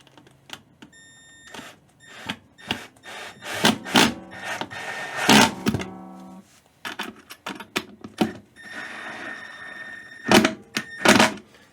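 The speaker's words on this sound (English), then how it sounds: "You don't want to screw it in too tight because you don't want to strip it." Close, dry wooden clicks, taps and scraping rubs as a strap button screw with washer is turned into a wooden ukulele body, in irregular bursts with short pauses and no talking.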